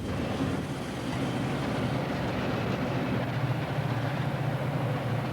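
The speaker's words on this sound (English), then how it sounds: "The Salad Bowl Express rolls through the heartland of the industrial Middle West." The Salad Bowl Express freight train rolling through the industrial Middle West gives a steady, continuous low rumble and rushing wheel noise on the tracks, heard alone without speech.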